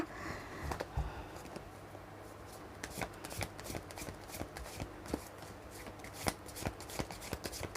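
A deck of tarot cards is shuffled by hand at close range, a run of crisp riffling flutters and soft taps repeating in quick bursts, with no talk over them.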